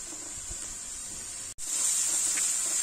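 Ginger-garlic paste frying with onion in a pan gives a steady, close hiss and sizzle, briefly cut off before returning louder and brighter.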